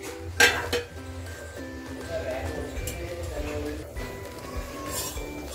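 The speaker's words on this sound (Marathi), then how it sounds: "आता आपण चिकनवर झाकण ठेवून शिजवूया." A metal lid is set onto a pot of cooking chicken, with a sharp clank near the start followed by lighter clinks of cookware over a background of kitchen noise.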